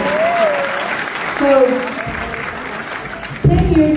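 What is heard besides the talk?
audience applause at school ceremony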